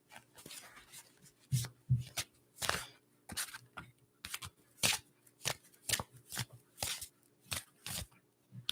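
Tarot cards are shuffled by hand in a quiet room, riffling and slapping in a steady run of sharp, soft bursts about twice a second.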